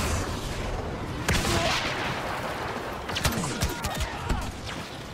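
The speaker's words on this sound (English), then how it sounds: "The CA-87 is the most satisfying gun in Star Wars Battlefront." Video-game CA-87 blaster fire in Star Wars Battlefront, with sharp repeated shots cracking over a dense battle din of explosions and distant gunfire, loud and close.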